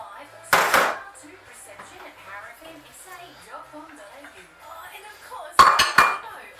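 Two bright clinking clatters of a utensil against a big bowl, one near the start and one near the end, as fresh and dry breadcrumbs are mixed together for crumbed pork chops; a voice talks quietly in between.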